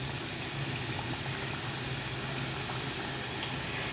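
Samosas deep-frying in hot oil, a steady, even bubbling hiss that holds at a constant level throughout with no talk.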